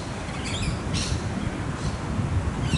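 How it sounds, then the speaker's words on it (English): Scaly-breasted and rainbow lorikeets at a nesting hollow give short harsh squawks in a few scattered bursts, fairly faint over a windy outdoor background. "So that's a pair of nesting rainbow lorikeets for you."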